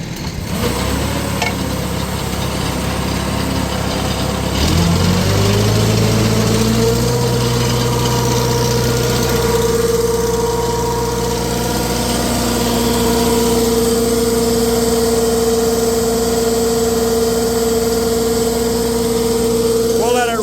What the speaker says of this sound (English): I'll start by putting her in gear.